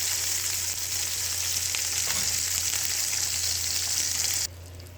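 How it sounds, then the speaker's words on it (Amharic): Meat bones frying in a pan for tibs give a loud, close, steady sizzle with a low hum underneath, which drops abruptly near the end. "አጥንቱን አሁን በደንብ ጠብሰዋለሁ።"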